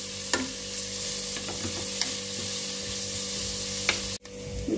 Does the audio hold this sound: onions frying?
yes